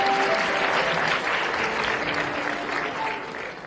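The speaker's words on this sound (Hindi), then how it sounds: "हमारे इन प्यारे प्यारे खास बच्चों के लिए एक मरतबा फिर से बहुत सारी तालियां।" Sustained applause rises from an audience at a PTV Presidency program honouring special children, a thick wash of many hands clapping that holds strong before tapering slightly at the end.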